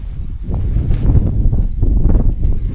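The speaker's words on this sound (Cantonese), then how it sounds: "真係好乸大風喎" Heavy wind buffeting the microphone in a continuous low roar with gusty surges, loud and close, at a Hong Kong campsite.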